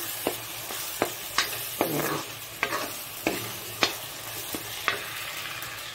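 Utensil scrapes and clicks repeat every second or so over a steady background of fish frying in oil, close by, with no voices.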